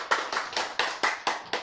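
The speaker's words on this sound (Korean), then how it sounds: "박수!" A short round of applause during a sermon, several pairs of hands clapping in quick bursts at a close, moderate level, with no talking over it.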